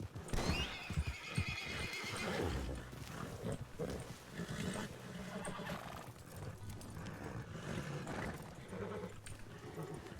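A horse in the RedM western role-play game whinnies loudly and repeatedly, with clip-clopping hooves and snorts underneath, close up and continuous with no talk.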